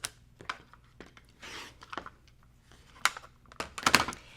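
Scissors or a rotary cutter slice through quilt fabric in short, close bursts of crisp cutting and rustling, with quiet pauses between strokes.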